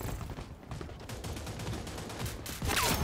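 Rapid bursts of automatic gunfire crackle in Rogue Company, dense and fairly loud, with sustained rattling volleys and a sharper cluster of shots toward the end.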